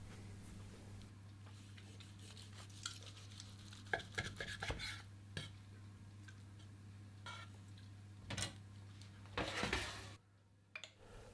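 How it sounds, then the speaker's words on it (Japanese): Knife slicing braised lamb shoulder into thin portions in a kitchen, scattered soft cuts and light taps on a board, close and fairly quiet over a steady low hum. "あまり分厚くなく、これぐらいのサイズにスライスしてドレッセ盛り付けていきます"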